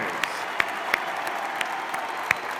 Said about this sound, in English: a big round of applause for those amazing Alexis Brothers